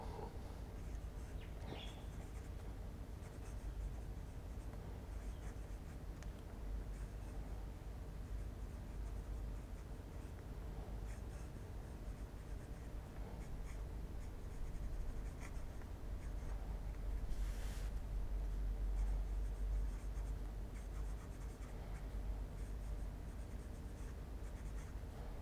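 A Wancher Sekai Aizu urushi fountain pen with a standard Jowo factory nib glides across paper, giving a faint, steady scratch and rustle that runs close and quiet throughout, with no talking.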